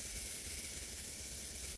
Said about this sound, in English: I'm gonna get my One Size setting spray and just spray my whole face.